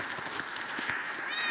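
Pet cat, a tamed ocelot in Minecraft, meows softly in a short high call under quiet game background noise, with a faint voice nearby.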